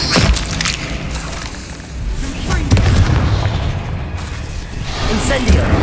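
Incendio fire spell from the Hogwarts Legacy video game, with loud rolling bursts and crackling flame blasts layered over heavy low rumble, swelling in waves across the stretch amid game combat noise.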